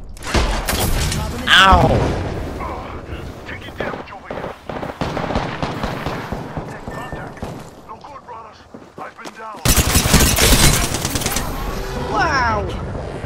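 Rapid bursts of gunfire and booming shots ring out in an Apex Legends match, loud and close in irregular clusters, with a voice calling out over the fighting.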